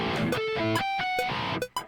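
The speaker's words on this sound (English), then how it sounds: "Oh, I could do something like that with the harmonics." Distorted electric guitar ringing out harmonics, bright sustained chiming notes struck one after another with sharp attacks, loud and close, no voice.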